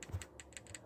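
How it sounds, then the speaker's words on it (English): Spring locks click away in a rapid, irregular run of small, faint metallic ticks and clacks, close by and with no voices over them. "So that's the sound to the spring locks clicking away"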